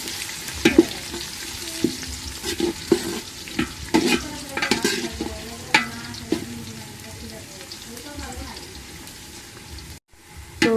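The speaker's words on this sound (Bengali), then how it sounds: "এখন মায়ের জায়গায় তেজপাতা দিচ্ছে গরুর মাংস হবে তেজপাতা একটু বেজে নেই" Bay leaves sizzle in hot oil as a pot is stirred for beef curry, with steady frying hiss and repeated scraping and clinking strokes throughout, near and moderately loud.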